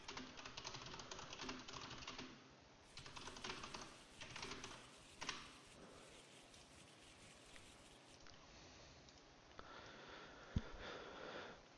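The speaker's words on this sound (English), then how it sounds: "Players shuffling their decks up." Card game players shuffle their decks at an online tournament final, a continuous soft riffling and pattering of cards lasting throughout, faint and somewhat muffled.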